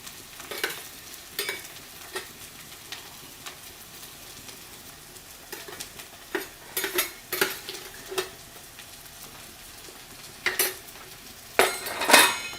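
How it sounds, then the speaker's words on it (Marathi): Masala with ginger garlic paste roasts for a prawn curry, a soft continuous sizzle under repeated sharp scrapes and clinks of a spoon against the pan, irregularly spaced and close. "आणि आता हे सगळं एकदम व्यवस्थित भाजून घेऊयात"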